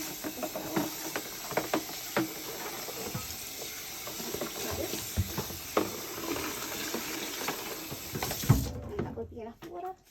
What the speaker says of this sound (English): I will then rinse this as well.